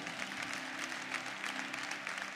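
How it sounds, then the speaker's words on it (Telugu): Church congregation at a Sunday service breaking into sustained applause, many hands clapping in a steady dense wash that stays even and fairly loud throughout, with no speech over it. "చప్పట్లు కొట్టాలి."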